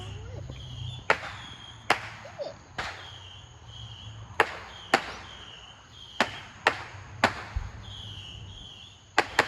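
Fourth of July fireworks bursting at a distance, about a dozen sharp cracks and booms spaced irregularly over a quiet outdoor night with faint crackle tails.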